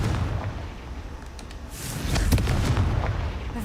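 A Confringo fire spell in Hogwarts Legacy bursts into a rumbling explosion, with low booms swelling into a louder crackling blast midway and scattered sharp pops trailing after.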